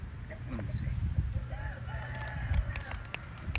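An Aseel rooster calls and clucks at close range amid a rural outdoor backdrop, with short vocal bursts scattered across a few seconds over a low background rumble.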